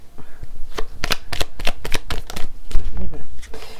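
A deck of tarot cards being shuffled close up, with a rapid run of crisp flicking riffles and soft slaps, a voice briefly audible underneath.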